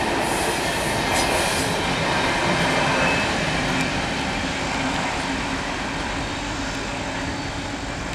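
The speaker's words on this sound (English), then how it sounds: "loaded rock train going east on 2 by Shawsville" A loaded rock train rolls past nearby with a steady heavy rumble and rattle of cars, plus occasional faint wheel squeals, continuous throughout; an ET44AH locomotive leads long hood forward near Shawsville.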